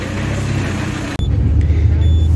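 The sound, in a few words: car driving on a test drive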